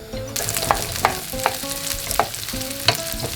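Sliced onion, chilli and garlic frying in oil in a pan give a close, steady sizzle, punctuated by sharp stirring scrapes about every half second, with no talk.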